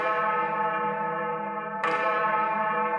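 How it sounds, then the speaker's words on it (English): A spooky, eerie school bell effect rings as a sustained metallic toll with a rich humming tone, then strikes again sharply near the end, loud and alone. "Suddenly, the school bell rings, but it doesn't sound normal."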